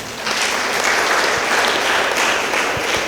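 Audience applause at a Rwandan church gathering, dense steady clapping that breaks out suddenly and holds at an even, fairly loud level throughout.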